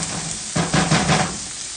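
Onions for chile verde sauteing in a pan, a close, steady sizzle with a brief burst of stirring and scraping in the middle, with no talking.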